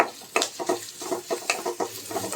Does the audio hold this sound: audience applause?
no